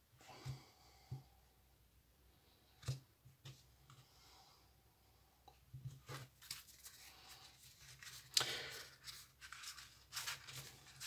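A deck of tarot cards is cut and handled in a quiet room, producing soft scattered clicks and sharp papery snaps, with a busier flurry of card sounds toward the end.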